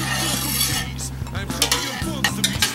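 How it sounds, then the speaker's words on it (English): A utensil stirs and scrapes milk with citric acid around a metal pot for cheese making, with a few light clinks over a steady low hum, close up. "Stir really well."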